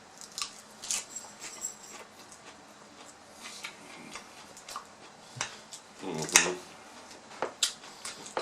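Crunchy raw salad of red and orange bell peppers, lettuce and cucumbers with Catalina French dressing is chewed close to the mic, with scattered sharp crisp bites and quiet gaps between them and no talking.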